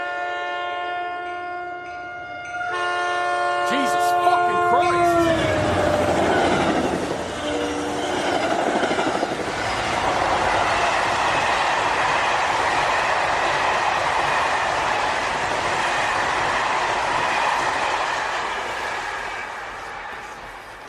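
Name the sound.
train passing at night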